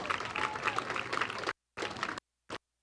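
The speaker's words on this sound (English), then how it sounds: "once again, nice round of applause for the Preble" Applause at a high school softball sectional final for the Green Bay Preble seniors, a crowd clapping steadily for about a second and a half, then two brief cut-off bursts.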